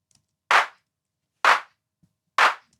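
Layered clap samples built for sound design: three crisp, punchy claps, evenly spaced about a second apart, dry and alone against silence.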